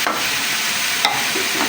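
Ground tomatoes hit a hot frying pan of aloo chicken, giving a steady loud sizzle and hiss with a faint scrape of stirring.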